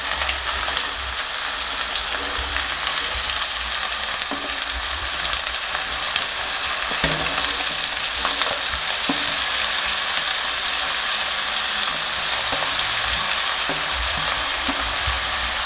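Finely chopped onions hit hot oil in a pan for a Kerala crab curry, sizzling loudly and continuously up close with occasional stirring and scraping sounds, no voices.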